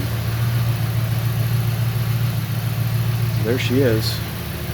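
Rear-mounted turbo Audi RS4 engine idling steadily with a low, mellow drone throughout, close by, while a person speaks briefly near the end.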